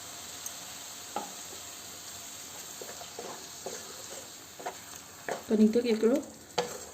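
Soft, steady sizzling of blended tomatoes frying in masala for omelette curry, with occasional stirring and scraping, close by, with a brief murmur of speech.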